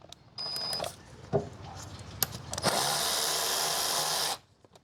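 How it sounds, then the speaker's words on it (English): Ratcheting and tool noise from an 8mm socket loosening a worm-drive hose clamp on the air box of a Chevrolet Astro or GMC Safari van, with a few sharp clicks followed by a sustained close, loud whirring burst. "There's a worm clamp right here. Use a 8mm socket,"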